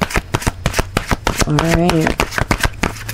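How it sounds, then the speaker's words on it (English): Tarot cards being shuffled by hand during a card reading: a rapid run of crisp, close riffling snaps and flutters, with a brief spoken word partway through. "Now I am shuffling from the fairies right now."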